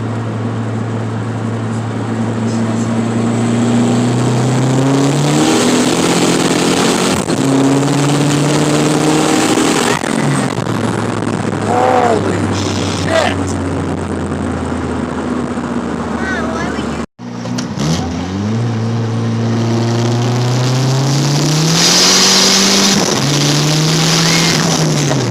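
Race car engine on a dyno pull, revving hard with rising and falling harmonic tones for about 25 seconds, loud and close, with a brief cut partway and people talking over it.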